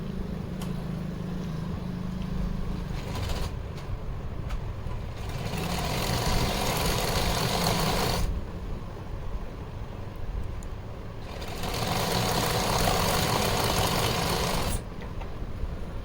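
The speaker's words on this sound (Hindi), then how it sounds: "इस तरह से फोल्ड करके हम सीधी सिलाई लगा लेंगे।" A sewing machine runs straight stitching along folded fabric in two bursts of fast, steady whirring, each lasting a few seconds, separated by quieter pauses with faint mechanical handling.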